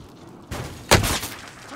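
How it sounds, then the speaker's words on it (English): Gunfire in a battle-royale video game: two sharp broadband shots, the second louder and nearer, with ringing decay under faint game ambience. "He's shooting at me"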